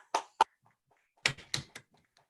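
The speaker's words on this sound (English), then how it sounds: "Everyone unmute and let's give him some round of applause." A few scattered, sparse hand claps from participants unmuted in an online meeting, thin and close-miked, coming in two small bursts with a gap between.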